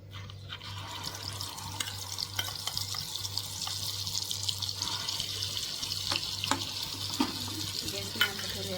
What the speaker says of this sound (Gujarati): તેલ ગરમ થઈ ગયું છે અને તેમાં મેં મસાલામાં થોડુંક પાણી નાખ્યું છે